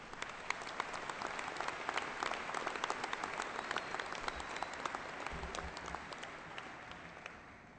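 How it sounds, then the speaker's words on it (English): A large audience at a 2014 graduation ceremony claps warmly, a dense, steady patter of many hands that carries evenly before tapering off at the end. "A round of applause for all of them, please."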